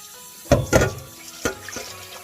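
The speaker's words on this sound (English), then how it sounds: "Just drain it like this" Water sloshing and splashing as it is drained out of a pot of soaked mung beans, a few close, gurgling bursts followed by trickling.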